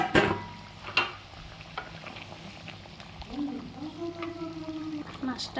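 Bual fish slid into a bubbling, spiced mustard-oil gravy, giving a soft splash followed by steady low simmering and gentle stirring, close and moderate in level.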